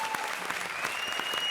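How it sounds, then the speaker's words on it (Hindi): A studio audience at a comedy talk show breaks into loud, dense applause, a continuous wash of many hands clapping throughout. "जोरदार ताली बजा तो भाई।"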